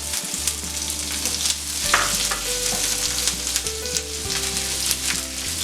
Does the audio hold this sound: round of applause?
no